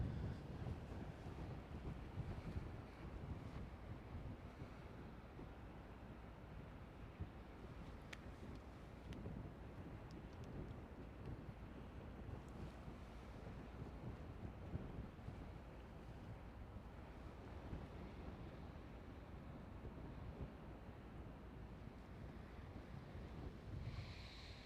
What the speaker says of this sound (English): Wind is blowing it towards me.